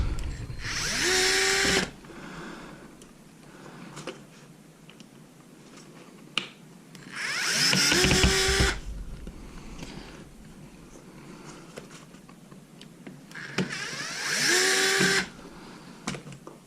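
A small power driver whirs in three separate bursts about six seconds apart as it backs out screws from a DIY kayak camera mount, close and fairly loud, each burst ending with a rising whine and quiet shuffling in between.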